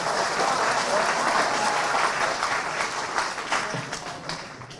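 Audience at a Hindi comedy poetry gathering bursts into steady applause, a dense patter of many hands clapping that slowly thins and fades over a few seconds.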